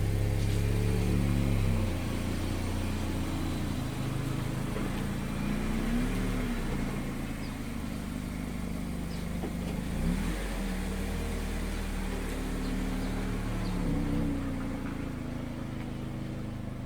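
A Mazda MX-5 ND RF sports car drives along, its engine a steady low hum that swells briefly as it revs, with road and cabin noise throughout and no talking.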